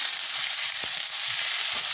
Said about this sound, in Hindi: प्याज, हरी मिर्ची और लहसुन डालकर थोड़ी देर सौते करूंगी।